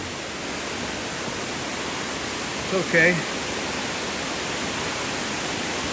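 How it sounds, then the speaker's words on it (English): A waterfall at Bandung Waterfall in Bali roars as a steady, broad wash of rushing water, with a brief voice speaking over it midway. "Wow, the sound of the waterfall."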